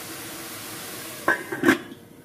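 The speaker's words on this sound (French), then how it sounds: "on va mettre un petit couvercle et on va laisser mijoter tout doucement" A lid set onto a gently simmering pot of leeks: a faint steady bubbling hiss, then a couple of close metallic clinks and a ringing clatter as the lid settles, with no talking.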